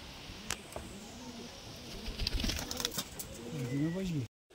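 Banarasi Fulshira pigeons coo close by, a few soft rolling calls near the end, while people talk over them.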